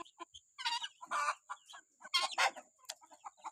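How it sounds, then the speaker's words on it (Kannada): Chickens cluck and squawk in repeated loud bursts, several birds calling over one another in close, noisy outbursts with brief pauses between. "ಇವತ್ತು ಯಾಕೆ ಇಷ್ಟೊತ್ತಾದರೂ ಬಿಟ್ಟಿಲ್ಲ ಅಂತ ಬಡ್ಕೋತಿದ್ದಾವೆ ಕೋಳಿಗಳೆಲ್ಲ"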